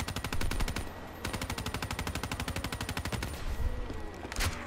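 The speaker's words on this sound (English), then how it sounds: "I don't know where all these guys that are shooting are at." Rapid automatic gunfire from the Black Ops 3 shooter game, in Nightmare Mode, rattles in long sustained bursts with a brief gap near the one-second mark and another break past three seconds, loud and dense with no voices.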